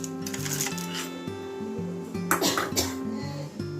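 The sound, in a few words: adding salted fried peanuts to sabudana fry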